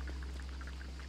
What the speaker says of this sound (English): You can actually hear the rain on the top of it.